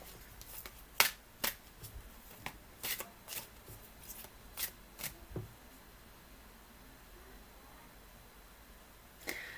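Quiet riffling and snapping of playing cards being shuffled, a series of short crisp bursts spread unevenly, then a final flick after a pause.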